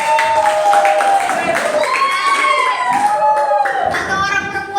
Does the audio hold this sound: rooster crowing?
no